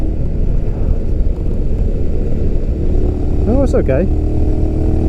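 Honda X-ADV 750 scooter-style motorcycle, a 238 kg machine on small wheels, rumbling steadily through bends with loud wind and road noise; a voice speaks briefly over the engine near the end.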